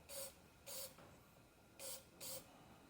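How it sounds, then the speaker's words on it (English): Four short bursts of clear coat spray paint hiss from an aerosol can into a dirt bike throttle grip, each under half a second, in two pairs with a pause between, close and quiet with no talk. "Just spray it in the grip"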